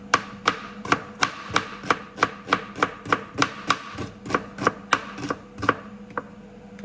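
A sharp kitchen knife chops food on a cutting board while making a breakfast fry-up, roughly twenty steady, evenly spaced crisp thwacks close up, with no talking.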